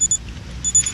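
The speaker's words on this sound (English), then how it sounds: "The beep of the G-Shock." Two short, high electronic beeps from a Casio G-Shock digital watch used as an interval timer, spaced about 0.6 seconds apart, fairly close and clear over a faint low background hum, with no speech.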